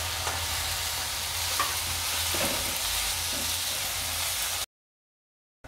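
Tomato rassa mixture for rassa vada stirred in a hot pan, giving a steady loud sizzle and hiss with soft scraping strokes, then an abrupt cut to silence near the end.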